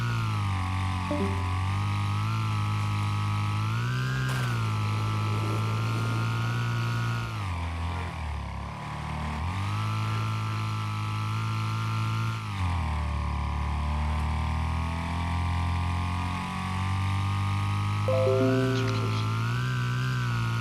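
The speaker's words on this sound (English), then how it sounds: "Oh, I forgot to turn the engine voice down. I thought it was all a bit loud." Continuous loud racing-car engine roar from the Wreckfest game, with the revs repeatedly climbing and dropping through gear changes over about twenty seconds and no talk.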